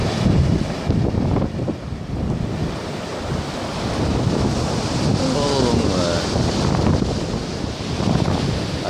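Surf breaks steadily on a beach while strong wind buffets the microphone, making a continuous loud roar with swelling wash throughout.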